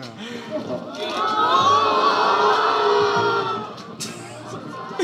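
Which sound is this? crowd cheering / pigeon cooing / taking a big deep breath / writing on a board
crowd cheering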